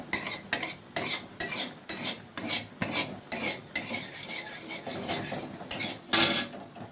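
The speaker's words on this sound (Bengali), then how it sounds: "এবার আমি ডিমের ভুজিয়াটা তৈরি করছি।" Egg bhujia stirred and frying in a pan, a spoon scraping the pan in quick repeated strokes with a soft sizzle underneath, close and steady for several seconds.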